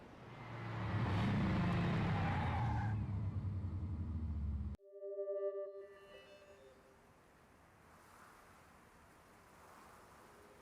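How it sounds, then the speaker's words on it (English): A rocket car roars loudly in the game Killer7, a heavy rumbling rush for several seconds that cuts off abruptly, followed by a short tonal chime and a faint lingering hum. "It's the rocket car!"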